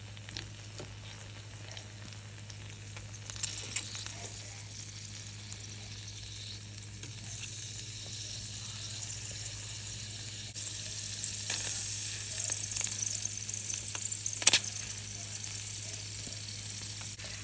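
Mealworms fry in a pan of hot oil, giving a steady soft sizzle with occasional louder crackles and stirring bursts, no talk over it.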